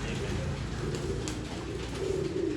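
Domestic pigeons of an old-line breed coo at a bird sale in Bangalore, a low repeated cooing close by amid steady flock noise and chatter from many birds.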